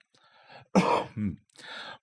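A person clears their throat with a harsh rasping cough, followed by a short throaty grunt and a breathy exhale, close and distinct.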